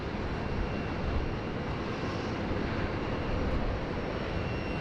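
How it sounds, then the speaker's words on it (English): Qantas jet airliner just landed at Sydney Airport after arriving from Brisbane, a quiet, steady rumble of engines rolling out at a distance, unbroken and without speech. "That Qantas has just landed now."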